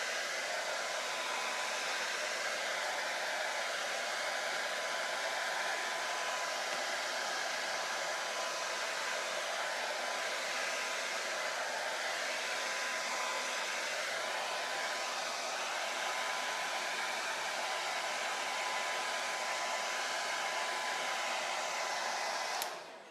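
A hair dryer blows steadily and loudly to dry acrylic paint on a Halloween owl door hanger, a continuous airy whoosh that holds unchanged for over twenty seconds before cutting off abruptly.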